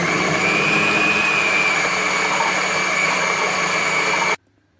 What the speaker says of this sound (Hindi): अब हम इसको कवर करके दोबारा से पीस लेंगे ताकि सारा मसाला अच्छे से कीमे में मिक्स हो जाए।